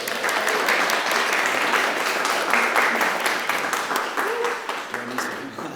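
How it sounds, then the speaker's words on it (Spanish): Audience applause after a social innovation workshop closing, a steady wash of many hands clapping throughout, loud and sustained with a slight fade near the end, with a few voices faintly mixed in. "Un aplauso para todos ustedes."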